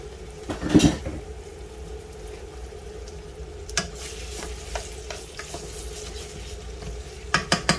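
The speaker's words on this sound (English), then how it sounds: "So I'm just going to cook the onions off and brown them." Onions browning in hot oil in a pan for pasta fagioli give off a steady, fairly loud sizzle, with a clatter of stirring near the start and a few sharp utensil taps later.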